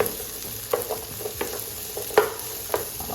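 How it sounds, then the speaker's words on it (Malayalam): Medium-sized onions sautéing in a pan as the base for butter chicken, with a steady low sizzle under a few scattered scrapes and clinks of stirring, close and moderately quiet, no talking. "മൂന്ന് മീഡിയം സൈസ് സവാള ഇട്ടിട്ട് നന്നായിട്ട് ഒന്ന് വഴറ്റിയെടുക്കണം"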